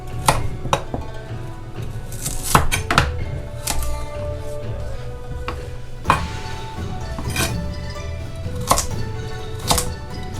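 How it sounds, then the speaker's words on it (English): A knife chopping vegetables into half rounds on a cutting board for a rustic curry, irregular sharp close taps in quick clusters and scattered single cuts, no speech. "I want to cut those into kind of a little bit smaller than the meat size half rounds"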